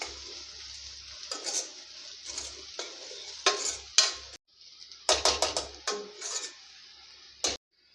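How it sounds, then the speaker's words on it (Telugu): Ginger garlic paste and turmeric stirred in a hot pan for egg curry, a soft sizzle with repeated scraping strokes of a spoon against the pan, close and unaccompanied by talk. "కలుపుకొని 1 నిమిషం పాటు పచ్చివాసన పోయే వరకు ఈ విధంగా కలుపుకోండి అల్లం వెల్లుల్లి పేస్ట్ని"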